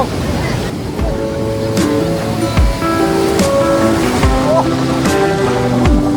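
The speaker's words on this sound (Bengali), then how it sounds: "আর এই মুহূর্তে কিন্তু বেশ বড় বড় ঢেউ দিচ্ছে, পুরো একদম ফেলে দিচ্ছে সামনের দিকে।" Big ocean waves break and surge steadily onto the beach at Puri, with loud continuous surf. Voices and other tonal sounds rise over the roar throughout.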